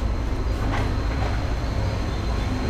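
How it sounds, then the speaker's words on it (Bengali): A Nazirhat local train rolls around a curve, giving a steady, loud broadband rumble with continuous low-end roar and faint rail hiss throughout, no voices. "ট্রেন এই যে কার্ভ নিচে, কার্ভ নিয়ে বের হয়ে যাচ্ছে"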